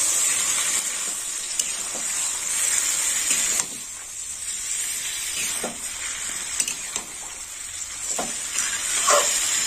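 Chicken Bagdadi frying in a pan while being stirred, a steady bright sizzle running throughout with occasional soft scraping stirs and clinks, close and moderately loud, no voices.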